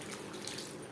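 Water pours steadily into a pan of chicken ghugni flavoured with tomato sauce: a continuous close splashing rush lasting the whole second, with no voices.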